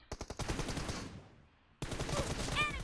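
Rapid automatic gunfire rattles in PUBG Mobile, loud close bursts broken by a short pause before shooting resumes, with faint voice-like tones near the end.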